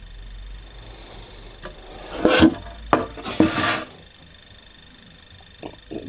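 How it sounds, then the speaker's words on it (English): Sandpaper rasps across the wood of a handmade dulcimer in a few short, close strokes, with quiet pauses between them. "So next step, I'm going to give it a sanding."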